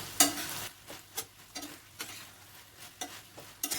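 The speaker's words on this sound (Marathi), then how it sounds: "त्यामध्ये अंडा टाकूया आणि परतून घ्यायचं छान" Egg sautéed in a pan for egg chili makes a soft sizzle broken by repeated scraping stirs of a spatula, with an irregular rhythm and close, moderate loudness.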